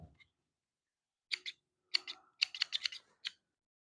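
Several small, sharp snips from thread snips in a quiet room, a few isolated clicks followed by a quick cluster of crisp cuts.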